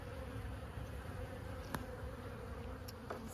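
Honey bees buzz in a steady, moderately loud drone around an open hive during a sunset inspection on a farm, with a few brief sharper clicks standing out over the continuous hum.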